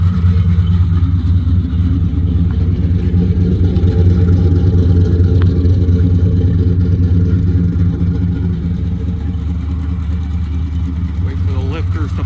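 A restored 1972 Chevelle engine runs loud and close, a steady rumbling idle with a throbbing low-end pulse that holds throughout.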